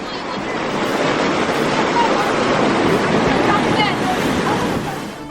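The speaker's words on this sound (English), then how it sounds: "The waterfall is being fed from the river down that way" Rushing water from a waterfall fed by a river pours steadily and loudly throughout, a broad continuous roar close to the microphone with some wind buffeting.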